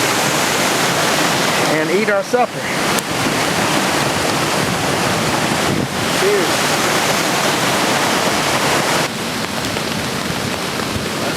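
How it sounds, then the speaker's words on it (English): Waterfall roaring steadily from close by at dusk in the wilderness, a loud continuous rushing wash under brief talk from people standing above it. "we're back on top of the waterfall"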